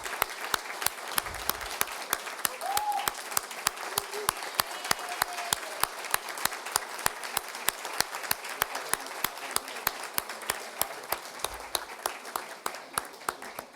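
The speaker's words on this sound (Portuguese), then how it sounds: "uma salva de palmas a todos os servidores" Sustained applause fills a council chamber during a municipal session as councillors stand to honour public servants, a steady dense clapping from many hands with sharp individual claps standing out, continuing for well over ten seconds.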